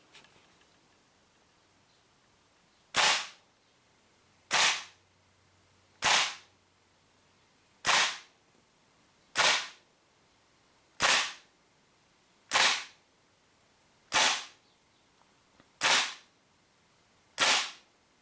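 WE Apache MP5A2 gas blowback airsoft rifle firing single shots over a chronograph: ten sharp, loud cracks spaced about one and a half seconds apart, each with a short decay, over a quiet background and no talking.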